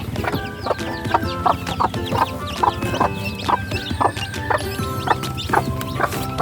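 Chickens on the ground with free-ranging birds fighting nearby cluck repeatedly in a busy farmyard, with steady overlapping calls and sharp bursts close by.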